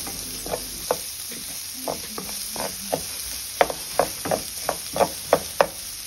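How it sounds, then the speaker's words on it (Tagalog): Onion, garlic and green chili sautéing in a pan for Ilocano pork dinuguan: a low steady sizzle under a string of sharp spatula taps and scrapes that grow louder and quicker toward the end. "ngayon magkigisa na tayo. Ilagay ko na yung sibuyas, bawang at green chili"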